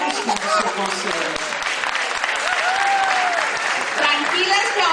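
A large audience breaks into sustained, loud applause that holds steady throughout, with faint voices and a brief whistle-like tone rising over the dense clapping.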